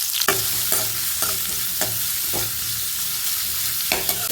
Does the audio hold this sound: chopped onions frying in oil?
yes